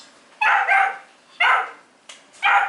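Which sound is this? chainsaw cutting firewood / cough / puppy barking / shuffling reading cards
puppy barking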